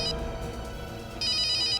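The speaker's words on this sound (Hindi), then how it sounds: "घंटी बज रही है।" A telephone bell rings in short bursts, a bright trilling ring at the start and again more loudly near the end, in a quiet indoor room.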